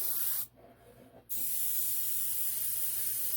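A steady aerosol spray-paint hiss on a resin model kit that cuts out briefly for under a second, then resumes and runs continuously, close and fairly loud.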